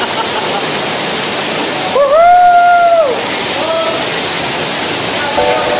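Masai Falls pours in a steady, loud roar of rushing water close by, while a voice lets out a drawn-out cheer partway through.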